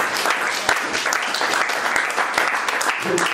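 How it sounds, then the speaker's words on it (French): A church congregation at an evangelical seminar breaks into dense, sustained applause that fills the room steadily from start to finish, with a few sharper claps standing out. "Acclame pour la gloire de l'Éternel."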